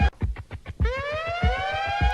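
A rising siren wail sweeps upward and holds over a repeating thumping beat, loud and up close.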